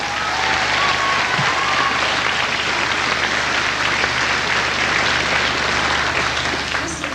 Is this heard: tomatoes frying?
no